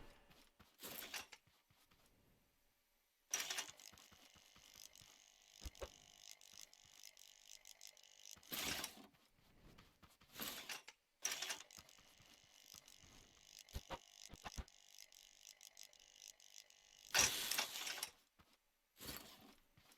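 Scrap Mechanic's welding tool makes bursts of mechanical ratcheting, gear-like clicking that start and stop in separate spurts between silent gaps, close and fairly quiet.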